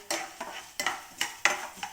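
Urad dal roasts in a pan, heard as a run of about six quick scraping stirs that each set off a short burst of dry rattling sizzle, close and fairly loud.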